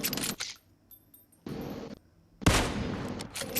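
Gunfire in PUBG Mobile: three quick rapid-fire bursts, the last one loudest and longest, separated by short quiet gaps.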